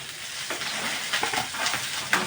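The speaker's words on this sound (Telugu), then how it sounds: "మంచిగా ఫ్రై చేసుకొని" Green chillies frying in oil in a pan with onions, a steady close sizzle and crackle with light stirring scrapes throughout.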